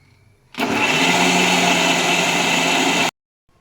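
A kitchen mixer grinder blends fried and raw onions for jeerige bajji, switching on abruptly with a loud, steady whirring roar for about two and a half seconds, then cutting off into near silence.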